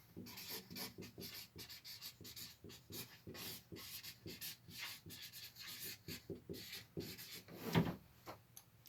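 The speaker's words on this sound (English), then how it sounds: "Now let's write his name down here." A name being written on a board during a physics lesson: faint, scratchy rubbing strokes in short irregular bursts, with one slightly louder scrape near the end and no talking.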